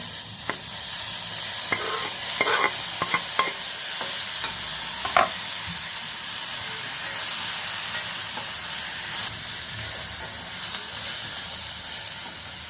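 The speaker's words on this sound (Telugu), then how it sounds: "ఉల్లిపాయలు వేగిపోయి టమాటా ముక్కలు వేస్తున్నాను." Tomato pieces fry with onions in a pan, making a continuous hissing sizzle with scattered spatula taps and stirring clicks, heard up close and alone.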